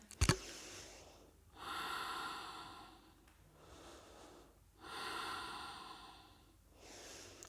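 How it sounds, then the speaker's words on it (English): Slow, audible Ujjayi breaths during a power yoga session, with long hissing inhales and exhales alternating in a steady rhythm, close and soft, without talk. "Remember your Ujjayi breath."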